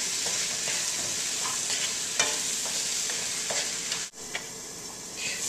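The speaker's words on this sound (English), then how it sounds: "So we've sauteed our mushrooms and onions." Mushrooms and onions sauté in olive oil over medium-high heat, giving a steady bright sizzle with occasional soft scrapes and taps as they are tossed, then a brief pause before the hiss resumes.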